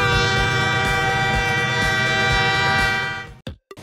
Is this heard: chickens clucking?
no